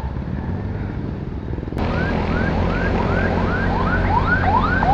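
Traffic rumbles steadily, then an ambulance siren starts up with rapid repeating sweeps, growing a little louder as it continues.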